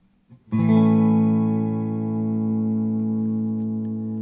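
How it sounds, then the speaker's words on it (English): One clean electric guitar chord on a Telecaster-style guitar's single-coil neck pickup rings out and sustains, with a light reverb tail slowly decaying; no talking. "just a little bit of reverb"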